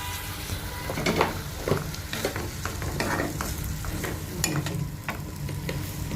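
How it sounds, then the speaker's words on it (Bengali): Spice masala being fried and stirred in a pan with a little water, as a broccoli curry cooks: a dense, close, steady sizzle with repeated scraping strokes of the spoon, with no talk. "এবার ভালো করে নেড়ে চেড়ে এটা কষিয়ে নেবে"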